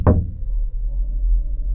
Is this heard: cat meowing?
no